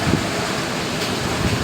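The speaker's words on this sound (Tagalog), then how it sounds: "Lakas ng hangin dun, oh." Strong storm wind roars as a steady, dense rush with gusty low rumbles buffeting the microphone, a whirlwind in Vietnam.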